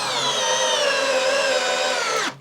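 A Craftsman drill drives a 5-inch power lag screw into wood, giving a loud, steady motor whine that holds for about two seconds before winding down abruptly.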